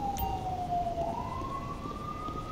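An ambulance siren from the GTA5 LSPDFR police mod wails in a steady, sweeping tone over a low rumble of traffic, loud and close throughout.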